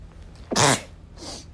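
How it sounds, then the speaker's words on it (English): A single close, sharp sneeze bursts out after a brief quiet moment, followed by a softer breathy exhale. "Oh no, I'm going to sneeze."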